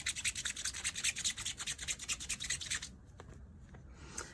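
A photopolymer stamp is scrubbed clean with quick back-and-forth strokes, a close, rhythmic series of scratchy rubs that ends abruptly, followed by a few faint taps.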